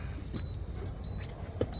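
A thin, high electronic lights-on warning beep repeats at intervals over the low rumble of an idling 2021 International LT truck engine, heard from inside the cab.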